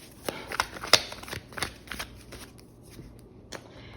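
Tarot cards being shuffled by hand, a quiet series of soft riffling flicks and papery slaps in an irregular rhythm, close and alone.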